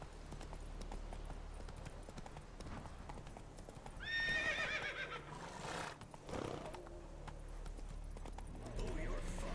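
Roach, a horse in a video game, gallops with rapid clip-clopping hooves and lets out a clear, high neigh midway, with game noise and voices mixed in around it.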